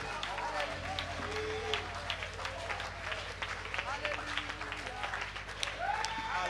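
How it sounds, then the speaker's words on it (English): A church congregation claps at a Sunday service over a sustained low organ or keyboard drone, with a steady wash of hands and a voice speaking over it. "Let's clap our hands to the great God and King."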